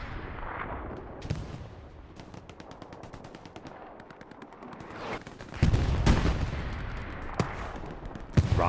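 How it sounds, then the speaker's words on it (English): Rocket slamming into the side of a medium Sherman tank in Hell Let Loose, set in a noisy firefight with scattered gunshots and machine-gun bursts, followed by a heavy boom and rumbling impacts. "Rocket comes into the side of the medium Sherman."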